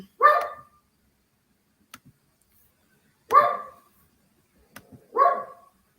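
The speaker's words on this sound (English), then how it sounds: "I don't know what Remy's barking at" A dog barks three times, sharp and fairly close, with quiet gaps between each bark and no talking.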